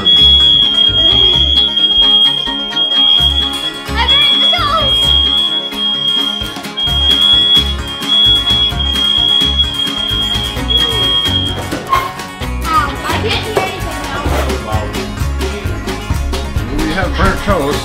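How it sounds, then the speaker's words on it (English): A household smoke alarm, set off by burnt toast, beeps steadily and loudly for about twelve seconds under excited talk and background music, then cuts out. "burned! Fire alarm."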